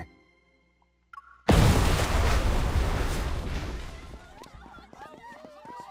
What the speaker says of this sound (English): A deafening explosion drowns out the music and ensuing screams.